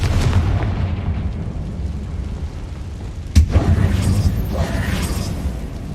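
A Confringo blasting spell explodes in Hogwarts Legacy inside an abandoned mine: one sharp, loud blast lands midway and rumbles out over a steady low game ambience.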